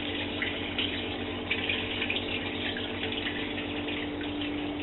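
Sake liquid running steadily off fermented rice into a runoff container leading to a fermenter, a continuous close trickle of flowing liquid with a low steady hum beneath it.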